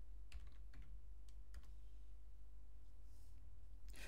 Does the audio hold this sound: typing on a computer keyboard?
yes